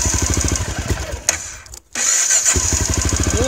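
A Honda XR650L motorcycle, cold with the choke on, chugs unevenly at first, briefly cuts out to near silence, then catches and settles into a loud, steady thumping idle close by.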